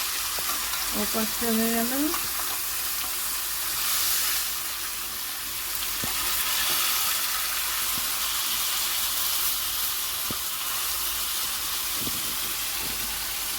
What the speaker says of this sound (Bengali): একটু করে ভেজে নিতে হবে।